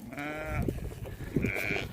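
Sheep bleat twice on a farm during lambing season, a wavering nearby call followed by a higher second bleat, over outdoor background noise.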